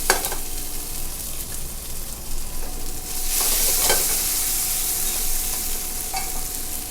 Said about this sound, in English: we'll just caramelize these onions until they're nice and brown